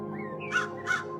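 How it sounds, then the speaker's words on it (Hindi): A crow caws twice in quick succession, loud and harsh over a steady low hum in the background. "उन दोनों के जाते ही कालू कौवा मीनू मौसी के घोंसले के बाहर आ जाता है।"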